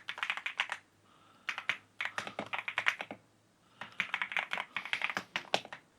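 Close-up typing on an MSI gaming keyboard with linear switches and PBT keycaps: quick bursts of soft, clacky keystrokes separated by short pauses.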